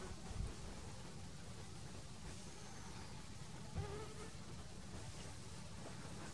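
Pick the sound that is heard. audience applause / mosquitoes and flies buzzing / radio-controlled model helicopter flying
mosquitoes and flies buzzing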